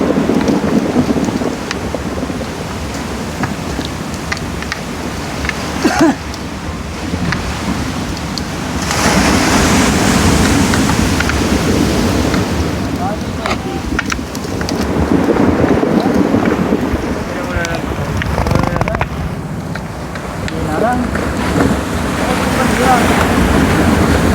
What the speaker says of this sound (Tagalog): Maulan, no? Maulan na naman. Malakas talaga.